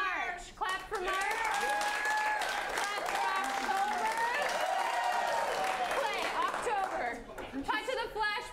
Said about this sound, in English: Clap for March.